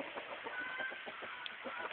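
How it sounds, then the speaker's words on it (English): Chickens cluck softly in a quick, irregular patter, faint and somewhat distant over a steady outdoor hiss. "Bunch of my chickens."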